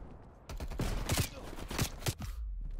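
Gunfire in Black Ops Cold War on the Christmas version of Nuketown, a handful of close, sharp shots in quick bursts with mechanical clatter between them and a faint voice now and then.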